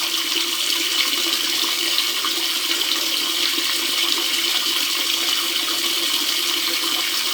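Water steadily pours into a tank fitted with a homemade float level controller, a continuous broadband rush that stays even and fairly loud, with no voices.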